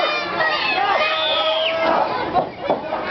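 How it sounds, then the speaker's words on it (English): An indoor wrestling crowd cheers and shouts in a loud, continuous roar of mixed voices, with whistles and excited yells rising above the babble. "And the crowd is loving it."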